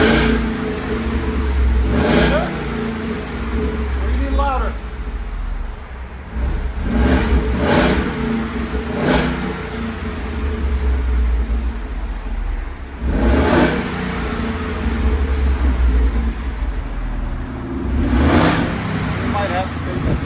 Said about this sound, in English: So we'll let you guys hear it in a second.